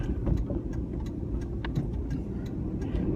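A twin-turbo Audi A6 engine drones steadily as the car pulls onto a highway. The low rumble stays even and close, with light ticking and clicking sounds inside the cabin and no talk.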